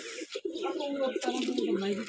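Racing pigeons coo close by, a low throaty rolling call lasting about two seconds, with people talking at the same time.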